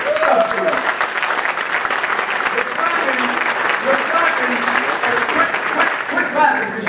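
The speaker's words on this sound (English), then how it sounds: "Quit clapping, because you know what?" A political speech audience bursts into loud, sustained applause with cheering voices mixed in, the dense clapping continuing without a break throughout.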